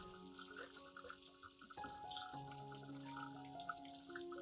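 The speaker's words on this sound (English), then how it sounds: "we'll rinse the entire plant under clean running water" An orchid plant is rinsed under a running tap, giving a steady, soft splash of flowing water. A faint background tone plays throughout, heard at low level with no talking.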